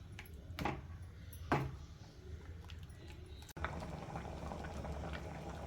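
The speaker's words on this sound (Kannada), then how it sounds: "ನೋಡಿ ಸಾಂಬಾರು ಚೆನ್ನಾಗಿ ಕುದೀತಾ ಇದೆ." A pot of Mangalore-style basale greens and sprouts sambar boils on a stove, a faint steady bubbling with a few soft knocks and a louder burst of simmering toward the end.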